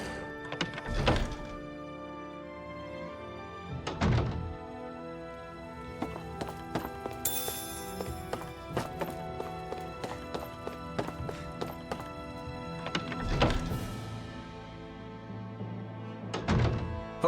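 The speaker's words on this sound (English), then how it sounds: "I always loved the sound of hammers banging away." Heavy hammer blows bang out in the video game Tales of Arise, several loud metallic thunks spaced irregularly over a steady game music bed, with lighter clanks in between.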